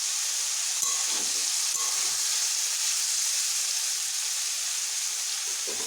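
Roasted peanuts hit a hot pan while cooking a dalia dish, giving a steady, close sizzling hiss throughout with a couple of faint clinks and stirring scrapes, and no talking.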